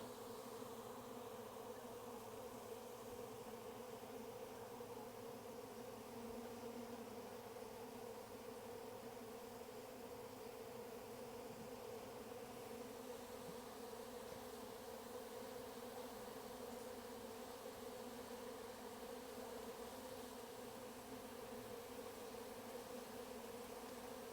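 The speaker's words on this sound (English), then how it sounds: "A couple bald-faced hornets down there." Faint, continuous buzzing from several bald-faced hornets at a bucket bee feeder, a steady droning hum with no voices, lasting throughout at a distance.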